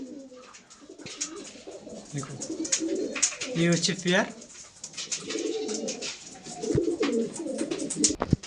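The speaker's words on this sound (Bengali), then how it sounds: "তো এটা মাদা পায়রা আছে, চোখের পায়রা" Madrasi pigeons coo repeatedly at close range, soft rolling calls with a few chirps, while someone talks over them.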